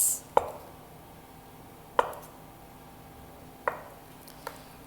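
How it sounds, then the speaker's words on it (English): A knife slices through a block of halloumi cheese on a board, three sharp distinct cuts spaced a second or two apart plus a fainter fourth, close and quiet between strokes. "So to make the halloumi, we're basically just gonna cut it into planks like this."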